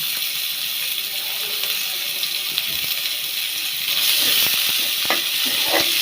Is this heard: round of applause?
no